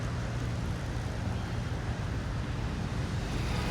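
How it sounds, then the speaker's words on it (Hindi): Steady road traffic rumbles past outdoors, a continuous broadband wash with low engine hum and no clear individual passes, fairly loud and unbroken for the whole stretch without any voices. "तो अभी काफ़ी ट्रैफिक जा रहा है"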